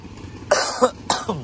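Two sharp, close coughs in quick succession, each a harsh burst followed by a brief raspy tail.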